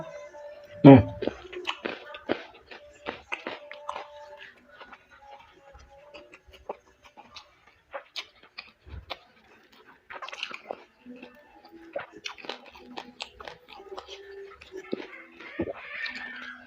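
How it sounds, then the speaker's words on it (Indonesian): Close-up mukbang chewing of jengkol beans with rice and side dishes, with soft crunches and wet bites scattered unevenly throughout. A brief voice sounds in places between the mouthfuls. "Kita cobain jengkolnya."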